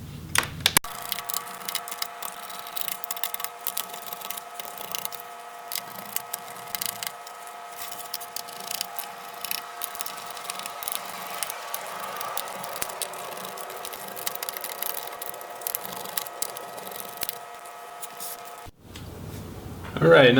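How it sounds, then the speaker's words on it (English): Screws are backed out of the underside of a Dell Precision 7510 laptop: faint, sparse ticks and small metallic scrapes over a steady electrical hum, close to the mic. "I'm going to go ahead and remove all the screws that I can see here at the bottom."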